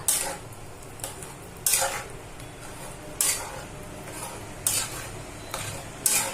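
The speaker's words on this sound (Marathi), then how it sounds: "दूध टाकतोय आपण आता हे बघा एक वाटी दूध घेतलंय मिक्स करून घेऊ" Potato sheera with milk just added is stirred in a pan, a spoon scraping and clinking against the metal in short, regular bursts about every one and a half seconds over a soft background hiss.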